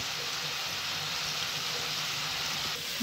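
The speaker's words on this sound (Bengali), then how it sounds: "ভালো করে আমি কষিয়ে নেব।" Turmeric, chili powder, salt and coriander powder are sautéed in a pan with a little water, producing a steady, moderately loud sizzling hiss with no pauses.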